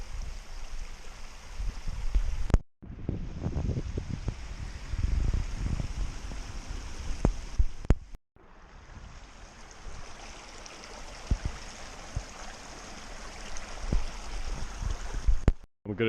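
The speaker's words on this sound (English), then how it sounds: "Natural water source." A natural jungle stream flows steadily, a continuous close wash of rushing water with small splashes and bumps, broken by two abrupt cuts to near silence, and no voices.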